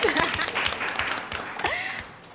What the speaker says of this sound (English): can you please give her a round of applause for me, please?